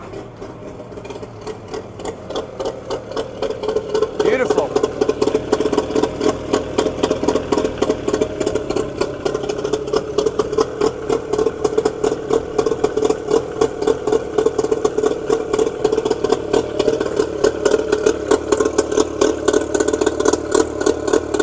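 A cheap fishing boat's outboard motor starts and then idles with a fast, even putter for a long stretch. One word is spoken briefly near the start.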